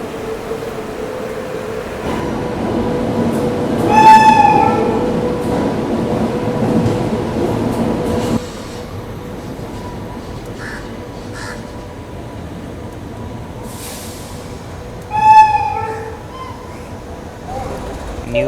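A passenger special train hauled by a WAP-4 electric locomotive rumbles along, sounding two horn blasts some ten seconds apart over a steady rolling drone, with people talking nearby and crows cawing.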